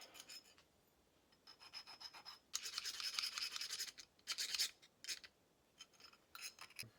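A hand file rasps along sharp edges on a Trailhawk part, coming in separated bursts of scraping strokes, the middle ones longer and louder, heard close with no talking.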